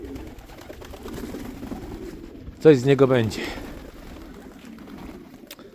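Someone speaks briefly in Polish while a pigeon in a loft gives a soft, low coo in the background before and after his words.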